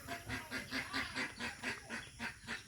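Bombay pigeons cooing nearby in a loft setting, a steady series of about ten rhythmic low coos repeating roughly every quarter second with no talking.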